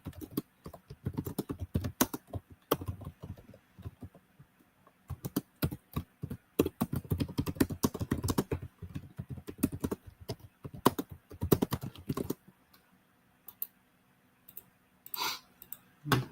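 Rapid bursts of typing on a computer keyboard, close and clattering in uneven clusters with short pauses, then a few scattered clicks near the end.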